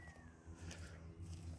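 A cat meows once, a faint, short call set against quiet background noise.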